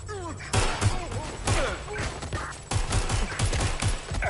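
Gunfire in the video game Watch Dogs Legion: loud, repeated shots and bursts crack out in several clusters, with impacts and thuds among them and no one speaking.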